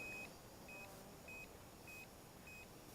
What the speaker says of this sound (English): So this beep is that it's returning home, I think. GPS auto return.